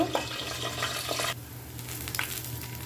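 Garlic cloves and green chillies frying in a pan make a moderate sizzle that thins out halfway through, with a low steady hum underneath and a few light stirring clicks.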